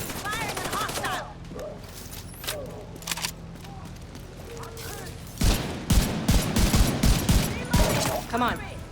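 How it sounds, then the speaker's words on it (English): Gunfire at hostiles in The Division 2, Warlords of New York: a steady run of sharp, closely spaced rifle shots in the second half, loud and near, following quieter scattered shots, with a voice talking over it. "Firing at hostile."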